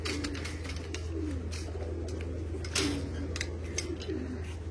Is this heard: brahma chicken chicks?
no